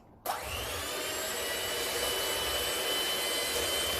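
An electric mixer starts abruptly and runs continuously, whirring loudly and steadily through vanilla cupcake batter as ingredients are gradually added, with no talking.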